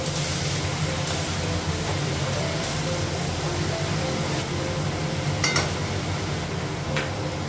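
Green chillies and brinjal fry in a pan with a steady, loud sizzle, with occasional scrapes and clinks of a utensil stirring.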